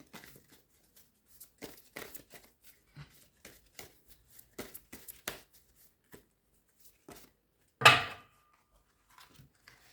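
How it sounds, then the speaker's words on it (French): Oracle cards are shuffled and drawn in a quiet room, with soft scattered card flicks and slides and one sharper, louder riffle near the end. "je vais tirer une carte avec l'oracle de Merlin"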